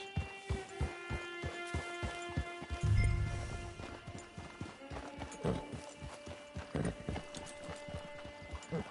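Horse hooves clip-clopping in the video game Red Dead Online, a steady rhythmic series of close hoofbeats with a brief low rumble midway and faint background hum, no talk.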